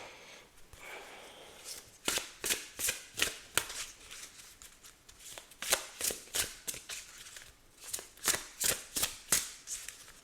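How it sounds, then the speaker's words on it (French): A deck of fairy forest oracle cards being shuffled and handled, a run of quick papery riffles and slaps in uneven bursts, close and fairly quiet, with no talking. "On va prendre quelques cartes."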